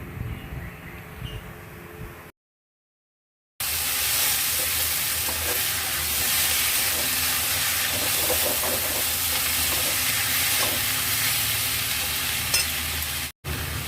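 Taro stolons stir-fry with prawns in a pan, producing a loud, steady hiss of sizzling oil with faint stirring scrapes. A short silent break comes near the start.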